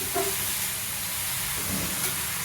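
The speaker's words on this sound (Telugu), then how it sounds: "స్లో ఫ్లేమ్లో పెట్టి మంచిగా ఫ్రై చేయండి" Grated carrots frying in a pan over a low flame, giving a steady soft sizzle and hiss throughout, with no break and no voices.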